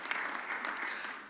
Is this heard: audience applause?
yes